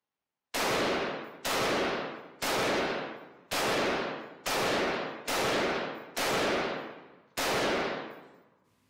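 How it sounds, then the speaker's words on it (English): Eight sharp gunshots strike a lightweight armor plate in an even, unhurried rhythm, each crack loud and close with a short decaying ring before the next. "let's give it some more shots."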